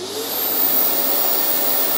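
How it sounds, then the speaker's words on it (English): A Festool dust extractor vacuum switched on remotely over Bluetooth, running at full power as a loud, steady whooshing roar with a high whine on top. "The vacuum started."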